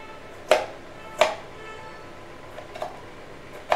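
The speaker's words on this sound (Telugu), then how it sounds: "ఇది చిన్న చిన్న ముక్కలు చేసుకుందామండి" Knife chopping amla (Indian gooseberries) into small pieces for pickle on a board, five sharp separate chops spaced irregularly across a quiet background.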